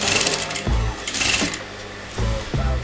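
A sewing machine stitches a collar band onto kameez fabric in short bursts, loud and close, stopping and restarting about three times with brief pauses between runs.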